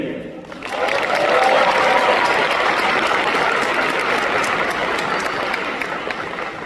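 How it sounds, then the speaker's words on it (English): Sustained applause from a large graduation audience inside King's Theater, a loud, steady wash of clapping that swells in after a brief pause and carries on evenly to the end. "let us give a round of applause to all the administration, faculty, and staff"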